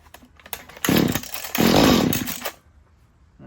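A Mantis rototiller's small engine, fitted with a newish air filter after carburetor cleaning and started on choke, catches with a loud buzzing burst, dips briefly, then roars again for about a second before cutting out, close by.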